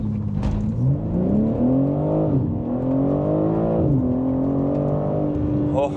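A 2025 BMW M3 Competition accelerates hard from a standing launch, its engine note climbing steadily through two upshifts, loud and close from inside the cabin, with no talking.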